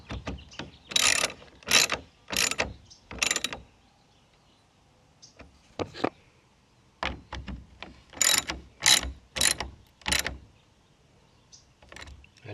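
A hand ratchet snugs up bolts on the plastic radiator frame of a 2010-2014 Subaru Outback 3.6; close bursts of rapid clicking come in several separate runs with short quiet pauses between them.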